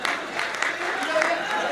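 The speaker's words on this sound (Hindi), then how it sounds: "तालियां बजाएंगे।" Audience applause at a Hindi poetry recital, a dense, steady patter of many hands under a murmur of voices throughout.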